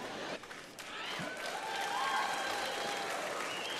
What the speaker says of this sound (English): I will start to encourage applause after reading commercials more often.